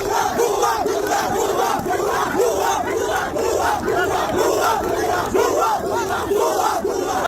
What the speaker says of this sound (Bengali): দেখেন কিরকম গুপ্ত গুপ্ত বলে স্লোগান দিচ্ছে